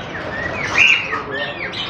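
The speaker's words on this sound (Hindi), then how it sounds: "ये परिंदे भी साथ में हैं देखिए।" Small birds at a bird market chirp and tweet in quick bright calls, one louder call standing out midway, over a steady crowded background murmur.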